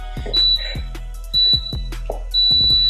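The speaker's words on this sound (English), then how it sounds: "When the timer goes off" Three evenly spaced high electronic beeps from a workout interval timer, each about a quarter second long and roughly one second apart, sounding clearly over a steady low background hum, with a few soft thumps between them.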